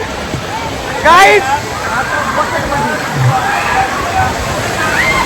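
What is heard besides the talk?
water pouring down at a water park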